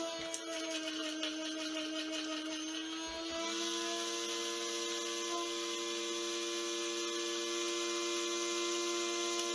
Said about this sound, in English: It looks like it could use a little more grinding.